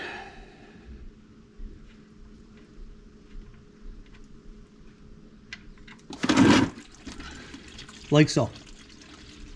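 Engine oil draining from the oil pan of a 2022 Toyota Tundra, a low steady trickle that swells into two louder gushing splashes near the end, under ongoing speech.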